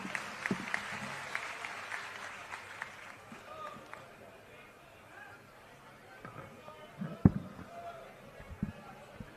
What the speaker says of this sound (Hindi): भाई जोरदार तालियां बजा करके स्वागत करें।